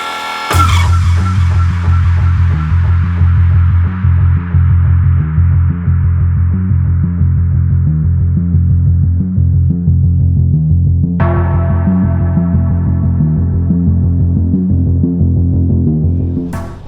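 A twin-turbo V12 engine runs on a dyno with a loud, sustained, throbbing roar that holds steady throughout, then surges again with a sharp rise partway through. No voices are heard.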